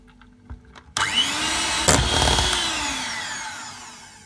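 An electric hand mixer runs steadily at low speed, whipping chocolate cream with cheese after a brief start-up, with a sharp clatter partway through as the beaters knock the bowl.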